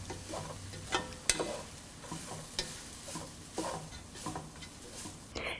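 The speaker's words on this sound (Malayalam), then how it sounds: "എല്ലാം ഒന്നുകൂടി നന്നായിട്ട് മിക്സ് ചെയ്യുക." A spoon stirs a banana flower and long bean thoran in a pan, giving soft scraping and light patter with occasional sharper clicks, quiet and steady with no voices.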